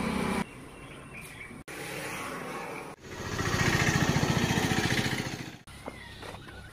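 A motorcycle engine with a faulty kick-starter, started with the self-starter, runs in bursts outdoors in a village; a steady idle swells into a louder revving stretch mid-clip before dropping back to a lower running note.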